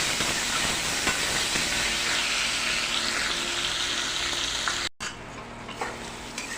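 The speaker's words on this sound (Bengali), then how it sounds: "বেগুনটা ভালো করে ভাজা হয়ে গেছে" Eggplant fries with tomato, green chillies, turmeric and salt in a pan, a loud continuous sizzle with stirring that briefly cuts out, then resumes more quietly.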